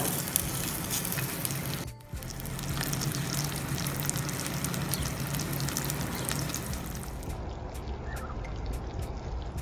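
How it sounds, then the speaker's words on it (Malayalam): Previously fried vegetables go into a pan of hot oil for maqluba and sizzle and crackle steadily, a broad hiss with a short dip near the start that fades somewhat toward the end. "അതൊന്ന് ചൂടായിട്ട് വരുമ്പോൾ നമ്മൾ നേരത്തെ ഫ്രൈ ചെയ്ത് വെച്ചിട്ടുള്ള നമ്മുടെ വെജിറ്റബിൾസ് ഇതിലേക്ക് ചേർത്ത് കൊടുക്കുക"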